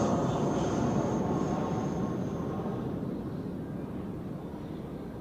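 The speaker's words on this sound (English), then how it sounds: "Oh, the Qatar A350 is also departing." A Qatar Airways Airbus A350 departs Zurich Airport, its engines a continuous broad roar heard from a distance that slowly fades, no one speaking.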